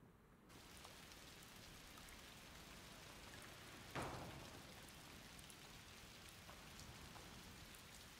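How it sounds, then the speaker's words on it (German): Heavy rain pours steadily in the video game A Plague Tale: Requiem, a dense even hiss with one sharp crack around the middle, alone and without voices. "Da sind wir wieder im absoluten Regen. Es plästert ohne Ende."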